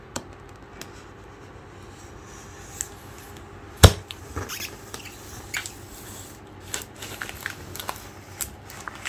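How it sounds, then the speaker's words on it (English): A cardboard box for a Secretlab SoftWeave Black³ gaming chair is cut open, giving quiet scattered scratching and crackling with one sharp snap partway through. "Alright guys, we're gonna cut this open."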